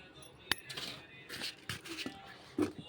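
Peanuts dropped into a dish of lemon rice as a topping, giving a few light clinking taps and small rattles, close and fairly faint, with no talking.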